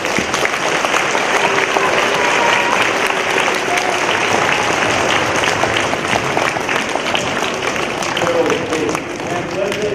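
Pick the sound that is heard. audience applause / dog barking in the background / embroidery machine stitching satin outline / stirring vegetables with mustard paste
audience applause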